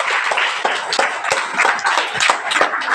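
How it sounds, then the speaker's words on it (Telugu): A group of children clapping together in a classroom learning activity, a steady run of quick, fairly loud claps lasting the whole stretch with no talk over it. "చప్పట్లు కొట్టండి అందరూ"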